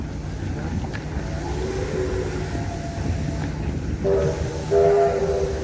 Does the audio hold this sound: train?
yes